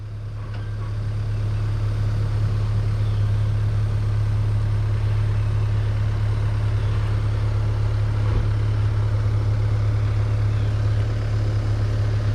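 A semi-truck engine idles with a steady low drone and hum, close and constant throughout, with faint background noise and no talk.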